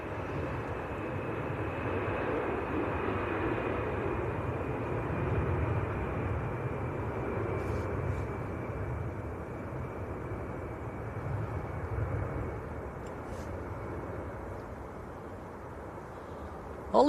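A large Emirates airliner turns onto the runway at Manchester Airport to line up, its engines giving off a steady, broad rumble and whine at moderate distance that stays constant throughout, with no speech.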